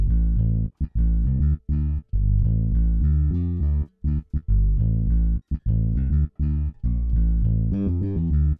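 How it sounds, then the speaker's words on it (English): An afrobeats bass line built from two layered basses in FL Studio plays alone, loud and up front, as a steady run of short, punchy, repeating notes with brief gaps. "this is actually two bass being played together"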